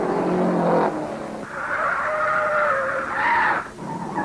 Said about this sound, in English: Something let go and his rear wheels locked. Here he is at the end of a 700-foot skid.